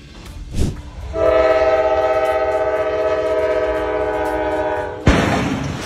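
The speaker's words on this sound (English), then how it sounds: "Train hit semi-truck in Marion, Ohio." A train at a road crossing in Marion, Ohio blasts a long, loud, steady horn lasting several seconds, preceded by a brief thump and ending in a sudden harsh crash as it strikes a semi-truck.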